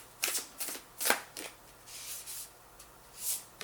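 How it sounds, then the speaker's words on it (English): A deck of tarot cards is shuffled by hand in quiet, close, soft bursts of riffling and sliding, about six or seven short uneven strokes with small pauses between them. "I'm going to shuffle it again for pile 3."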